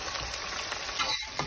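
Chopped onions frying in oil with garam masala while being stirred toward golden brown: a steady close hiss with faint scraping, no voices.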